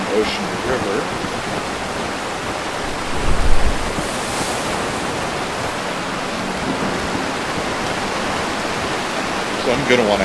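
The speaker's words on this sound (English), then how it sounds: "And then we go from ocean to river." Continuous rushing, bubbling river water in a video game flows evenly throughout, with one brief low surge early on.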